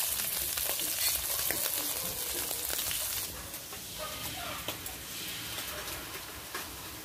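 Small shrimp frying in a pan of hot oil for Mekong Delta bánh xèo filling, a dense steady sizzle with crackling spits, loudest at first then easing slightly, no voices.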